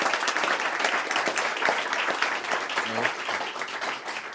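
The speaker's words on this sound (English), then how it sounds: "Another round of applause for Marco and his welcome talk." Audience applause after a talk at a machine learning event, a dense and steady wash of clapping that holds at an even level for several seconds with no clear voice over it.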